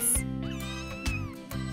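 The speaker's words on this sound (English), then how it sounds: "Three beautiful kittens." Cartoon newborn kittens give a high, drawn-out meow over a bright animated music bed, the cries rising and falling clearly in the foreground.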